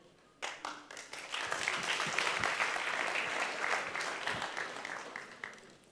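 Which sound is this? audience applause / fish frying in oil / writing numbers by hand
audience applause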